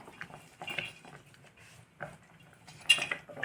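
A spoon scrapes and clinks against a pan while tomato thokku is stirred with salt, in short, irregular strokes close by with quiet gaps between them.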